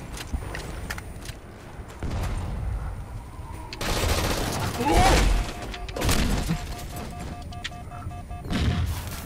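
Shotgun blasts in Halo 4 multiplayer, several loud booming shots spaced a few seconds apart amid game noise, footsteps and a voice talking.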